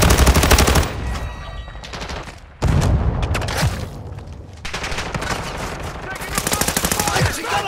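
Sustained, loud automatic gunfire from Call of Duty Modern Warfare II comes in rapid bursts with brief pauses, dense and close, with in-game voice callouts mixed underneath.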